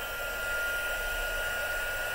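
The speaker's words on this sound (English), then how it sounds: "So heat up my heat tool." Crafting heat tool blowing hot air in a steady, continuous close whoosh with a faint whine, loud and alone for the whole stretch.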